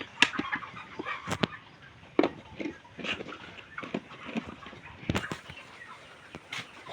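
Sick backyard chickens suffering from fowl pox cluck in short, scattered calls close by, with occasional wing flaps and rustling and no talk.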